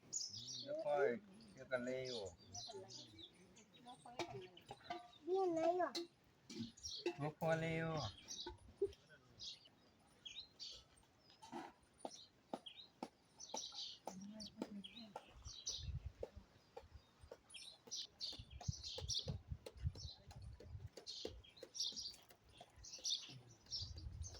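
Sparrows chirp around a cluster of nests, with scattered short bright calls coming and going, while someone talks at times in the foreground.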